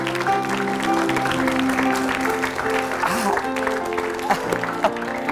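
A studio audience on the talk show Kata Hati applauds a guest. Continuous crowd clapping at a fairly loud, even level mixes with steady background music throughout.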